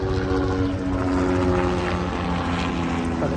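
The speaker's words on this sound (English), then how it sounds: "that's a very loud helicopter." A helicopter drones loudly and steadily overhead, its rotor and engine roar filling the whole moment with no voices.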